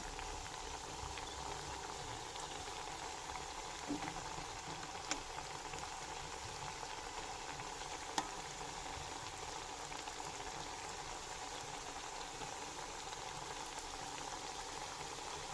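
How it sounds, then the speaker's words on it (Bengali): Pointed gourd leaf pakoras frying in oil make a continuous, even bubbling sizzle at moderate volume, with a couple of faint clicks and no voices. "এই দিক ওই দিক ভালো করে উল্টে পাল্টে ভেজে নিতে হবে"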